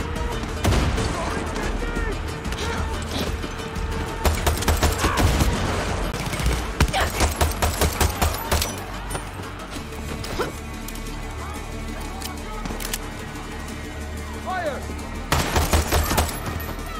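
Pistol gunfire in the video game Far Cry 6, loud repeated shots in rapid bursts over a dense game soundscape, with heavier volleys near the start and end.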